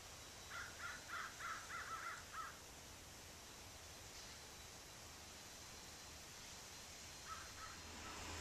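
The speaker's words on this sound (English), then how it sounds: "Of those crows in the background. Every crow I've ever known had an opinion." Crows cawing outside a house, a quick run of about seven harsh caws in succession, then two more later, moderately distant over a steady hiss of background noise, with no talk.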